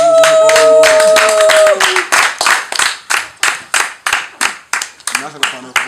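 An audience at a comedy show claps in a steady rhythmic beat, sharp individual claps repeating about twice a second, following a short stretch of voice and tones at the start.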